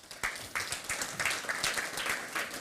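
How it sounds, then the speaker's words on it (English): An audience at a fungus fair claps for a guest speaker, a short round of applause from a modest crowd that comes in pulses and carries on for a couple of seconds. "everyone give them a round of applause."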